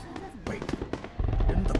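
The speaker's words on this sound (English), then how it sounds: "That's definitely fireworks." Fireworks pop and crackle in broad daylight in Infinity Nikki, a burst of sharp cracks and bangs in quick succession, close and fairly loud.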